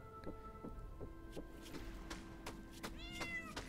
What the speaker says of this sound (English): Meow yourself, kitty.